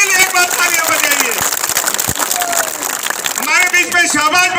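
Applause from a crowd at a cricket tournament event in Kaman, bursts of clapping mixed with loud voices and cheering, fairly close, with people talking over it.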